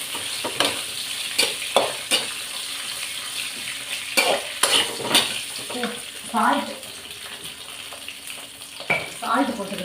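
Brinjal frying in a pan for maciyal, a steady sizzle under repeated scraping stirs of a spatula, close and clear, with no voices.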